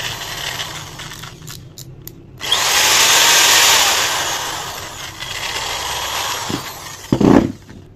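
An electric drill with a dimmer speed control whirs loudly for several seconds after a few short clicks, its pitch and loudness easing as the speed is dialed down, then a brief thump near the end.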